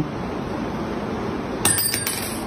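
A gold ring tapped several times, giving quick bright clinks with a short ringing tone over a steady background hiss.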